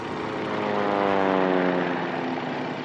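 A propeller aircraft carrying small groups of soldiers drones past in a loud, steady engine roar that swells slightly in the middle and then eases, with no talking.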